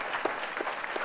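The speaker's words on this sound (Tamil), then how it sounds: "அவங்களுக்கு நல்ல நல்ல நல்ல பலமாக ஒரு தடவை கைத்தட்டலாம்." Audience applause for teachers at a school annual day, a short steady burst of many hands clapping at moderate distance, filling the whole moment without speech.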